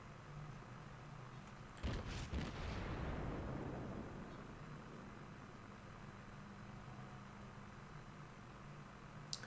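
Heavy 8-inch naval guns of the cruiser Aoba fire in World of Warships, a booming salvo near two seconds followed by a long rumbling decay over constant engine and sea noise.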